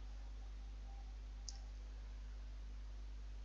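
A single mouse click on the Enter button in LabVIEW software, one short sharp tick about midway through an otherwise quiet stretch with low steady hum.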